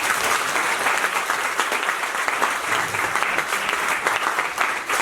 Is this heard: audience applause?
yes